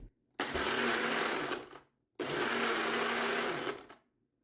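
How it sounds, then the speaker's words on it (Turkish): A kitchen blender purees lemon peels until smooth, whirring loudly in two steady bursts of about a second and a half each, separated by a short pause. "Ve içindeki limon kabuklarım pürüzsüz bir hal alana kadar güzelce makinemden geçiriyorum."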